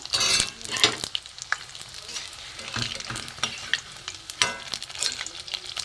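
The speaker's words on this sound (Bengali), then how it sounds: "একটু লাল করে ভেজে নিয়ে নামিয়ে নেব" Paneer pieces shallow-fry in a pan for a Kashmiri paneer dish, giving a steady close sizzle broken by bursts of stirring and scraping, with no talking.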